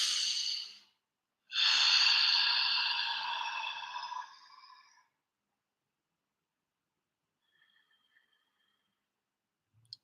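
Two deep breaths taken close up during a calm breathing exercise: a short exhale, then a longer, fuller breath that trails off, followed by near silence.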